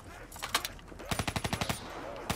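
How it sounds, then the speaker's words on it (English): Death Machine minigun from Call of Duty Black Ops 3 zombies, firing in short rapid bursts of sharp close shots, with a brief pause and then a fast even string of rounds. "That's a death machine."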